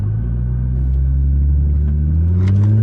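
Stage 3 tuned Nissan GTR with new injectors running at full throttle, a loud deep engine roar rising steadily in pitch as it accelerates, heard from inside the car with no talk.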